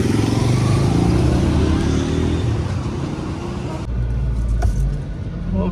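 A vehicle passes close by outside a temple in Udupi, its loud engine and road noise dominating before dropping away abruptly, leaving quieter traffic rumble.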